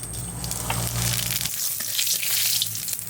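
Cumin seeds sizzle in hot oil in a wok as a Bengali lau shaak dish is started, a steady close hiss of frying that stays continuous with no talking over it.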